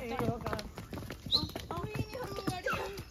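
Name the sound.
donkey hooves walking on mountain path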